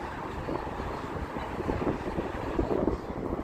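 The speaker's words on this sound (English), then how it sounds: "It just started getting a little windy, so I do apologize for that." Gusty wind buffets the microphone, a loud, rough low rumble that surges and dips continuously with no voices.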